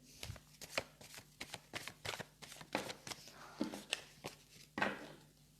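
Oracle cards being shuffled by hand for an evening card reading, a rapid run of crisp papery riffles and flicks in close, uneven bursts, with no talk over them.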